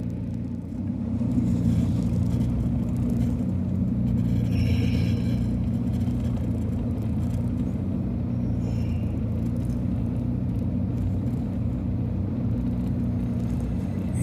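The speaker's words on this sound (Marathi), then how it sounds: "बापरे, ट्रक गेली की खाली" A truck grinds down a steep ghat road in the Ajanta hills, a continuous low engine rumble with hissing air-brake releases and faint scraping, steady and fairly close for about fourteen seconds.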